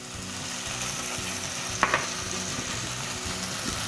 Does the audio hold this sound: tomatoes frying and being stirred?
yes